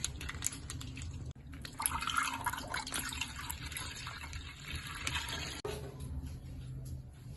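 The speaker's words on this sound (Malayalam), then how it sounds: "അപ്പൊ നമുക്ക് ഫസ്റ്റ് തന്നെ അതിലേക്ക് പാൽ ഒഴിച്ചു കൊടുക്കാം" Packet milk poured into a pot before it goes on the stove, a close, steady liquid pour with dripping splashes, briefly interrupted twice by short breaks.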